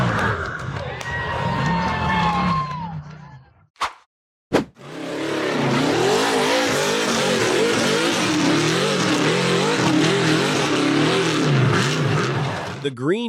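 A green off-road buggy climbs a rugged, rocky hill, its engine roaring and revving loudly and continuously after a brief break, with a crowd cheering and shouting in the background.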